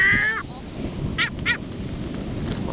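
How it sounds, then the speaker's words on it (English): A bird gives a few short, harsh alarm calls over steady outdoor background noise, with a louder squawk at the start and two more sharp bursts midway. "Wow, that bird's really angry."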